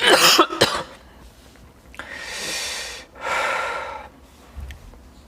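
A person lets out a few sharp, close coughs at the start, followed by a throat-clearing sound and long, raspy breaths.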